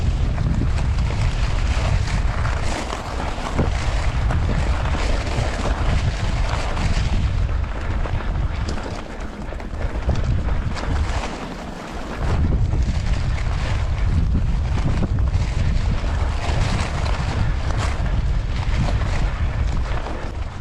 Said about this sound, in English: Nice, nice breeze.